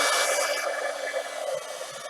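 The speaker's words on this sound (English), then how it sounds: "This is my little heat gun." A steady, loud rush of blown air, like a heat gun running continuously close by, with no talking.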